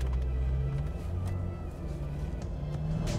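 Corvette C5 Z06 engine pulling at partial throttle from inside the cabin, a deep steady rumble with rising revs, loud and continuous with no talk.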